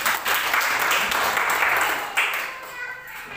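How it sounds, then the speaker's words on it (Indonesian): A church audience answers with a burst of dense clapping that swells quickly, holds for a moment, then gradually thins and softens. "Mana tepuk tangannya?"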